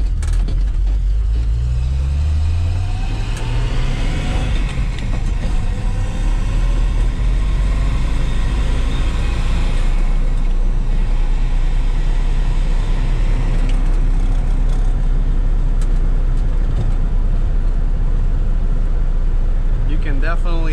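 An old Datsun with no power steering being driven, its engine droning and rising in pitch with a steady low vibration from flat-spotted tires, heard from inside the car under ongoing talk.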